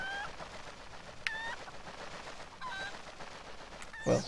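A cucco chicken in Zelda: Twilight Princess HD gives several sharp squawking clucks at moments scattered across the stretch, standing out over a steady layer of game background noise, with a louder burst near the end.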